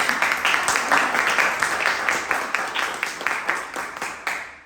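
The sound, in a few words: audience applause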